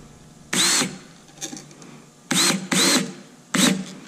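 Power drill on low power driving screws straight into Baltic birch with no pre-drilled holes while fitting drawer slides: three short loud whirring bursts with brief quieter spins between, close up and without talk.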